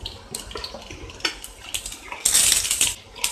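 Mustard seeds, urad dal and fennel seeds dropped into hot oil in a pan for tempering, with metallic clinks of a spoon against the pan and a burst of loud sizzling and crackling; no speech.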